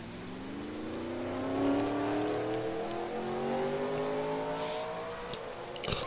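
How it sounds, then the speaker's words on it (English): Race cars return to the track before a heat race, engines revving in layered rising whines as several cars accelerate together, steady and moderately distant, with no talk over them. "the cars are coming back out on the track for the final happy hour right before heat race number 2"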